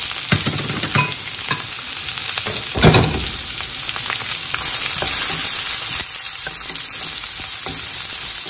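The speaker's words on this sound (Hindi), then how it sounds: "एबे देखंतु काटी थिबा प्याज टा पकई दउछु" Chopped onion fries loudly in a pan, a bright continuous sizzle with a few scraping and knocking strokes of a stirring utensil and one louder clatter near the start.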